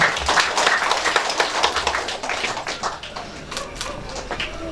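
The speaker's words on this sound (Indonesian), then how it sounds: "kita memberikan aplaus kepada kakak beradik" Applause for a pair of siblings at a Pinangan engagement ceremony: many hands clapping in a dense, steady patter for several seconds, fairly close and loud, with no clear voices over it.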